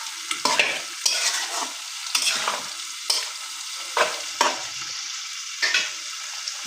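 A spoon stirs goat meat curry with potatoes in a pot, giving repeated scraping strokes in an irregular rhythm over a steady low sizzle, close and clear with no talking.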